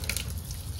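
Water sprays onto a toy truck being washed, a brief steady hiss of running water with splashes, close and moderately quiet, with no one talking.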